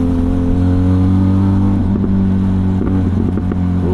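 Benelli TRK 502X adventure motorcycle engine running loud and close, a steady low drone with harmonic bands that rise and pulse as the throttle is worked in short revs.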